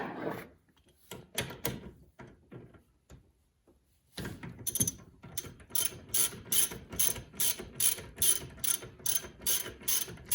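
Wrench ratcheting on a nut of a dirt bike suspension during a fork rebuild: a few scattered clicks and taps, a pause, then steady rapid ratchet clicking in a regular rhythm, close and fairly loud.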